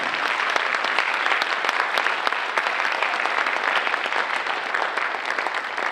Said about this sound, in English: Let's give Matt another round of applause.